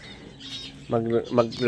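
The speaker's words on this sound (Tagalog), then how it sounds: "Ayan yung mga kalapati natin." Pet pigeons give low cooing calls in three short, close bursts, each rising and falling, over a quiet background.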